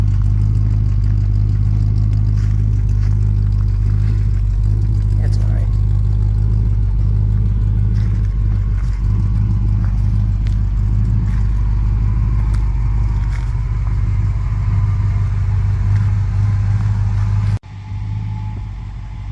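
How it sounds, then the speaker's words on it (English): A 1966 Dodge Coronet's engine idles steadily and loud with a low drone, running rough and stumbling, with clattery uneven pulses before the sound cuts off abruptly near the end. "As we can hear, it still has some running issues where it's kind of stumbling on its face."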